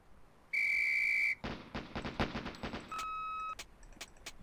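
A sharp, sustained referee-style whistle blast opens a police firing-range scene in a 1990s full-motion-video SWAT game, followed by a rapid, crackling volley of gunfire and a second shorter whistle.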